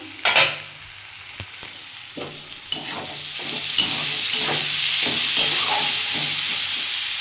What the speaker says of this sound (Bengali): আমার মূলোটা ভাজা হয়ে গেছে।